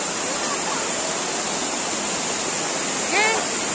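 Steady broadband roar of a small waterfall beside a temple in Goa, continuous and fairly loud throughout, with a brief faint chirp or whistle near the end.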